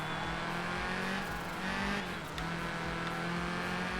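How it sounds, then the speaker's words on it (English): A rally car engine in Art of Rally drones loudly and steadily, its pitch dipping slightly as the car decelerates, with no one speaking. "Just that little sound whenever you decelerate, man, that's a great sound."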